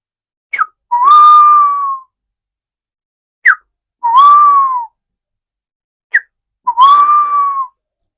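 A mimicry artist imitates a black bird's whistling call: three paired phrases, each a short sharp upward chirp followed by a longer sustained, slightly falling whistle, clear, loud and close, with pauses between and no talk.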